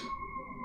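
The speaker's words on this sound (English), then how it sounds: "apologies for the sirens" Emergency sirens outdoors, heard as a steady high wail holding one pitch at moderate level over a low background rumble, brief and unbroken.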